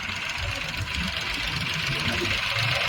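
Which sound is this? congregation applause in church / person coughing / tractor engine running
tractor engine running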